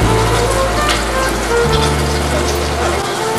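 Steady rain falls outside an old telephone booth during a storm, a dense continuous hiss of drops on surfaces with a low rumble beneath, loud and unbroken throughout.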